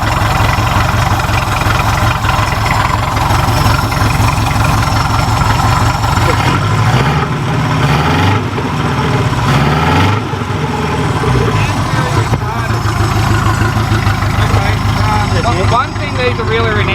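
A Subaru Brumby ute engine idles steadily and loudly nearby, a continuous low rumble with slight fluctuations throughout, no big rattles.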